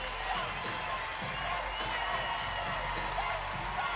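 Arena crowd at a college gymnastics meet cheering and whooping in a steady, moderately loud swell, with scattered shouts rising and falling throughout.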